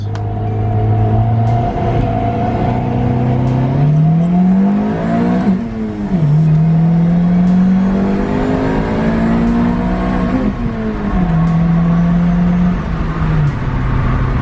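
A turbocharged Honda D16 engine in a two-door car roars loudly and continuously, its pitch climbing and dropping as it accelerates hard through gears under low boost, with no talking.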